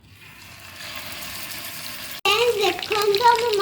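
Fish hisses and crackles as it hits hot oil in a pan for a curd fish dish. A burst of loud sizzling follows a soft hiss, and a voice talks over it.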